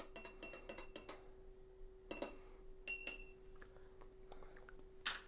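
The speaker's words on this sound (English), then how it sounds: "Stir, stir, stir." A gin, lime and pomegranate cocktail being stirred in a glass. Quick light clinks of a spoon against glass come in a rapid cluster at first, then sparser taps, quiet and close, with a faint steady hum behind them.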